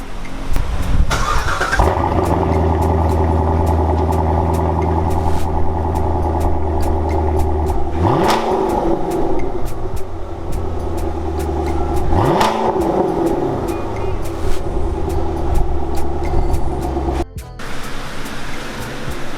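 A Ford Mustang fitted with a C7 Stingray exhaust, headers, mid pipes and Cook's high flow cats starts up and settles into a loud, steady rumble, with two sharp revs rising and falling midway and a brief dip near the end.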